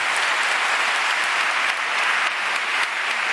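Sustained audience applause at an awards ceremony, the Princesa de Girona Awards, filling the whole stretch as a dense, steady wash of many hands clapping with no speech.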